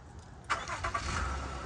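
A car engine cranks and catches after a Compustar remote starter is pressed and held, with a short burst of starter noise settling into a steady idle.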